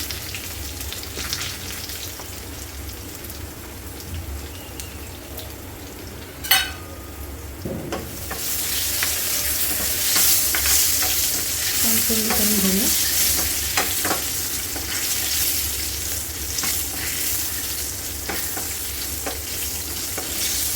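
Green chillies, curry leaves, garlic and asafoetida sizzle in hot oil for a tempering, with a sharp crackle as they hit the pan, then a steady fry and intermittent stirring scrapes, close and alone.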